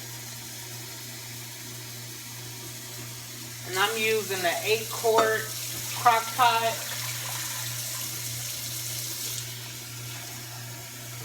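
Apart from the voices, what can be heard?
water filling a slow cooker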